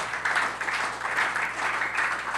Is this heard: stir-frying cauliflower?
no